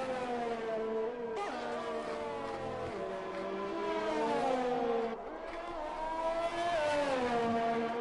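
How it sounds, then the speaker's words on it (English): A Formula 1 race car heading into the pits, its high engine whine sweeping up and down in pitch as it slows and shifts, loud and close for the whole stretch with a brief dip midway. "And into the pits comes our current pole sitter."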